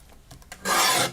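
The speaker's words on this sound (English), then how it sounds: "So I'm going to trim these red pieces off." Red craft pieces being trimmed: a short, dry rasping cut starts after a faint quiet stretch and runs steadily for about half a second before stopping, close and fairly loud with no talk.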